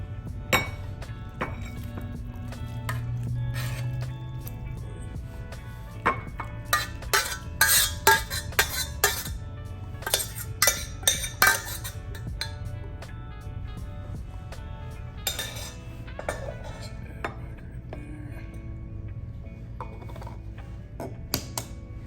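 A small spoon scraping and clinking against bowls while food is split between two of them, irregular bright taps and clinks clustered in bursts over a quiet room background.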